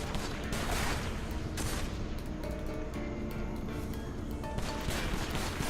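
Burst-fire sniper rifle shots from Enslaved: Odyssey to the West, heard as dense, continuous volleys of game gunfire with crashing impacts, loud and steady throughout with no talking.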